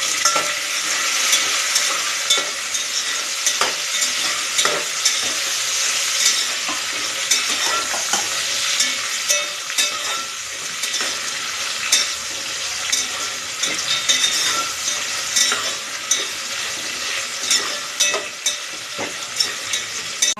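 Onions and green chilies fry in a pan with a steady, bright sizzle, broken by frequent scraping stirs and small crackles, close and continuous with no talk.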